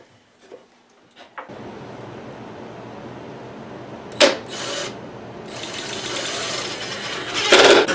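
A mounted jigsaw cuts wood with a steady, buzzing mechanical drone that starts after a few quiet knocks, with a couple of louder scraping bursts as the blade bites.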